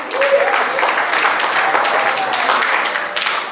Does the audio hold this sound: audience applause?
yes